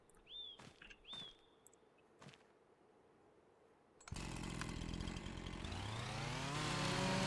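A chainsaw in Farming Simulator 25 starts up after some birdsong and short clicks, then runs loud and continuous, its engine pitch climbing as it cuts into wood.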